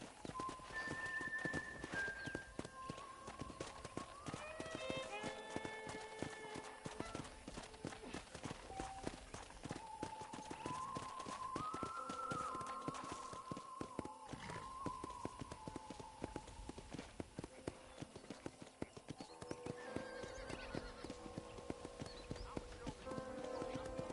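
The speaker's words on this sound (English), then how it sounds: "I picked out a fine horse for you." Rapid hoofbeats clatter steadily as a horse runs at a steady pace in the video game Red Dead Redemption, with faint tonal music underneath and a brief whinny.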